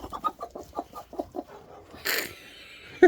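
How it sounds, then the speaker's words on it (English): Bert, a big pet rooster, gives a run of quick, close clucks in a steady rhythm, followed by a burst of wing flapping and a short sharp call at the end. "Such a big rooster."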